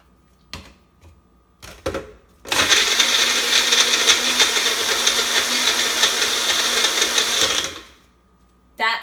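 A kitchen blender whirs loudly for about five seconds, mixing a chocolate shake, after a few clicks and knocks; the motor cuts off and the whine fades out.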